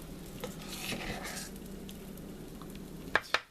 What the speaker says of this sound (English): you're just gonna spoon in probably about 3 to 4 spoonfuls at a time onto your griddle